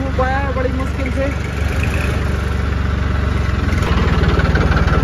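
A Sonalika tractor with a discharged battery idles after being tow-started by another tractor, its diesel engine a steady, close, pulsing low rumble; a voice talks briefly over it at the start.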